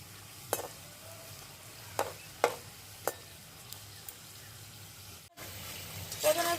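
Khari biscuits frying in oil, a quiet bubbling sizzle under several sharp clinks and scrapes of a utensil against the pan, with the frying swelling louder near the end.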